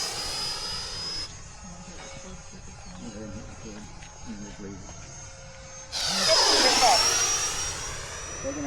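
A model airplane engine at Fritz Field runs through a takeoff. A steady buzzing drone holds for several seconds, then swells sharply into a loud, rising whine as the plane passes close by.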